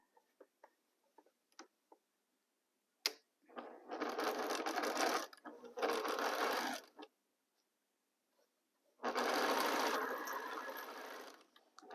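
Sewing machine stitching quilt pieces into rows, two sustained whirring bursts of stitching with a pause between, preceded by a few small clicks and taps, close and quiet otherwise.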